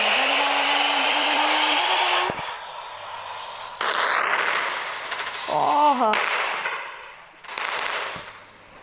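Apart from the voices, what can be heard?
gas tank explosions from video game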